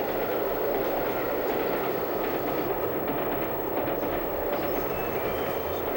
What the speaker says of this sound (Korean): 기차는 눈 덮인 기련산을 왼쪽으로 하고 좁은 하서회랑을 달렸다